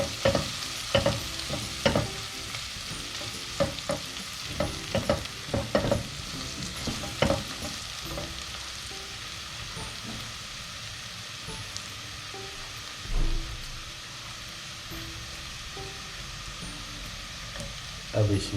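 Aloo gosht masala is stirred and fried in a pan, with a continuous soft sizzle broken by repeated scraping and clattering strokes of the spoon, fairly quiet and close.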